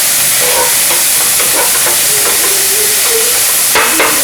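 Garlic, peppers, parsley and basil sautéing in a pan. A loud, constant sizzle hisses throughout, with soft scraping and stirring clinks over it.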